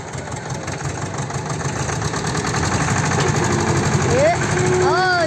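A Mahindra tractor engine runs in a steady, throbbing drone that swells slightly toward the end, with a voice speaking briefly over it at the close.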